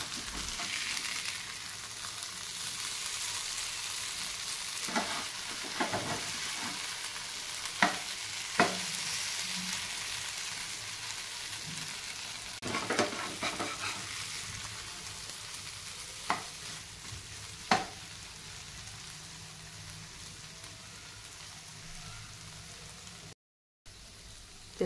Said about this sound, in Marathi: आता दोन्ही साईडनी पनीर पलटवून छान आपण क्रिस्पी असं फ्राय करून घेऊया